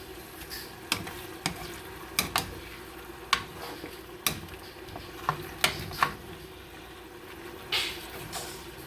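Seasoned food cooks in a pan with a low sizzle, broken by sharp clicks and scrapes of a utensil stirring against the pan at close range.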